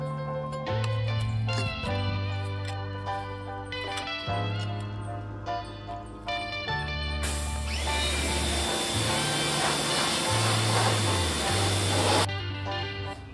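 A pressure washer driven by a 20-horsepower Briggs & Stratton V-twin engine runs with a loud, steady droning tone that shifts pitch, and a hissing spray of water rises over it midway, close and continuous.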